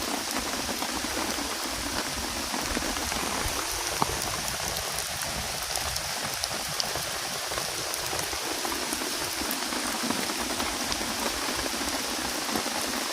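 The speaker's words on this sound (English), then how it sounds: "I knew it was gonna rain, but I didn't even think like it was gonna be like this." Heavy rain falls on a campsite as a dense, continuous hiss and patter with no pauses. It is loud and close, and no voices are heard.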